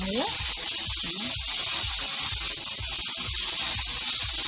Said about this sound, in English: So with this liquid and the garlic and the coriander, you're creating steam as well. As you can see, it's a lot of steam popping up.